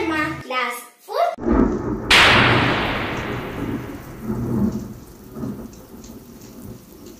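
A thunderstorm with rain: after someone speaks briefly, a loud nearby crack of thunder rolls out and slowly fades into a steady rush of rain.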